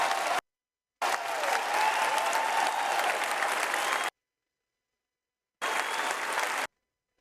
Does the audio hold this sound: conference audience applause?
yes